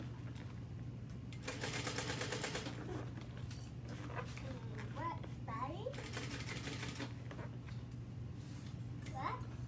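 Home sewing machine running steady quarter-inch seam stitching in bursts, with a voice and other speech around it in a room.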